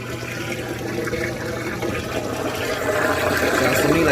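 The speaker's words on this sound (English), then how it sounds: "Sounds to me like the drain pump's good" Washing machine drain pump running and pumping water, a steady loud watery rush with a low motor hum that swells slightly toward the end, no talking.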